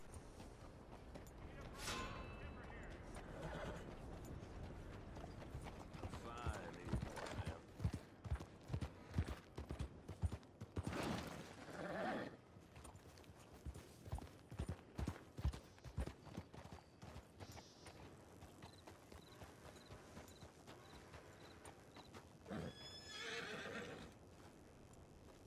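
In the video game Red Dead Online, horse hooves clip-clop in rhythmic runs of steps, broken by a couple of whinnies and neighs, moderately loud, with players talking in between.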